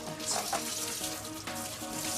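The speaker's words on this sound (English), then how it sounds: "So what I'm going to do now is just rinse off the dust and the starch. Cold water, always." Cold tap water runs steadily to rinse rice in a kitchen, a continuous, moderately loud splashing stream with nobody speaking.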